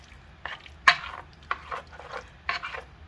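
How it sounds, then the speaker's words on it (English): Orange chicken with broccoli, onions and carrots is stirred in a pan, with a few scraping clanks of a utensil and a soft sizzle underneath, close by and with no talking. "I'm just going to stir this up"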